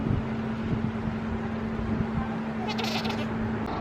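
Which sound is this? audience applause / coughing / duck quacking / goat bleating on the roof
goat bleating on the roof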